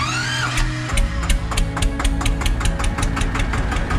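An Eicher 242 tractor with power steering cranks and catches, then settles into a steady, loud diesel idle with a regular knocking chug, close by and with no talk over it.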